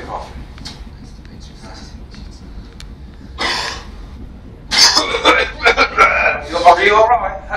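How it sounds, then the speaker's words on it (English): A man coughs in a dramatized scene about child labour, with a short burst in the middle followed by a louder run of harsh coughs, close and prominent, with faint voices around. "How can you keep coughing?"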